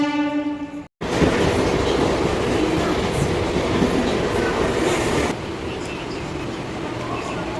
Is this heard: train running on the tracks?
yes